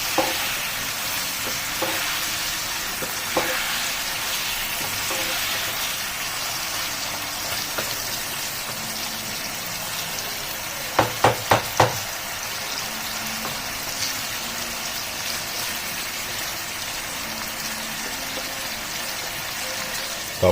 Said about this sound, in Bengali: আবার একবার চিকেনটাকে নেড়ে নেবো,